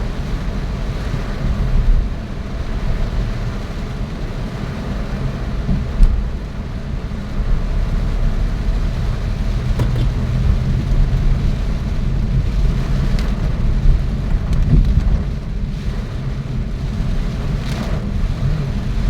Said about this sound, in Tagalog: Lakas na ulan dito sa Congressional Avenue.